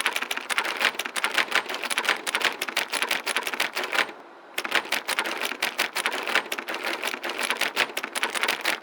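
Rapid, dense mouse-button clicking in The Stanley Parable, a continuous rattling stream of clicks with a brief pause midway before resuming at the same pace.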